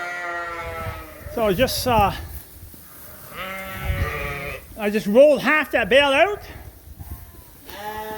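Sheep in a barn bleat repeatedly, several wavering calls overlapping one another, close and loud, while someone talks over them.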